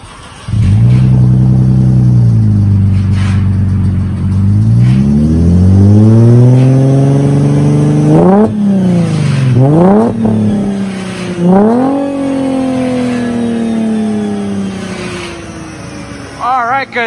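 A 2009 Mercedes C350 with a 3.5 L V6 and a Borla muffler, its rear mufflers deleted, starts up and revs several times, the loud, close engine note climbing and falling in repeated sweeps before settling back toward idle.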